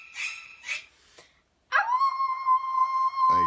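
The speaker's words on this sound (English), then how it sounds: "Wolf, howl." A wolf howl sound effect: a few short yips and a whimper, then a long sustained, steady howl that holds its pitch and ends in a brief growling bark, clear and isolated.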